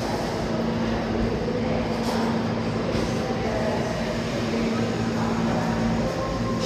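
A subway station passageway under 6th Avenue at Bryant Park, New York: a continuous rumbling rail and ventilation roar with a steady mechanical hum, loud and unbroken throughout, with no voices standing out.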